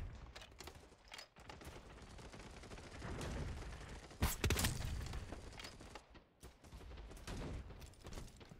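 Gunfire in the video game BattleBit Remastered, a dense burst of rapid shots building midway with a loud crack cluster, then scattered fire trailing off under a continuous battle din.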